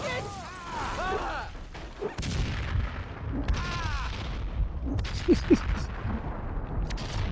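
Grenade blasts and gunshots in the video game Max Payne 2, scattered booms and cracks mixed with game voices talking and distorted sweeping effects.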